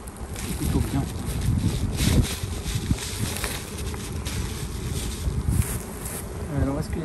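Honey bees buzz around an opened hive during a transhumance move, a continuous close droning hum with wind buffeting the microphone and someone talking over it.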